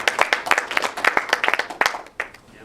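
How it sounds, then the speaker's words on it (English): Small group at a club meeting clapping for themselves: a handful of close, distinct hand claps in an uneven rhythm, thinning out toward the end. "So I think the group should give themselves a round of applause for the good job you did."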